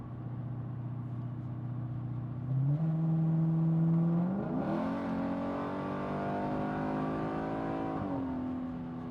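Car engine accelerating on E10 fuel while driving in Australia, a steady close drone that steps up in pitch through gear changes, climbing as revs build and then easing back, with no talk.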